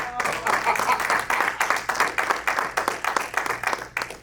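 A church congregation applauds during a sermon, a dense, steady wash of clapping from many hands that carries on throughout at a fairly loud level.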